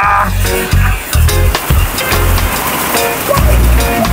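Heavy rain drumming steadily and loudly on a car on the Aguinaldo Highway toward Tagaytay, a dense continuous hiss with low thumps from the vehicle mixed in.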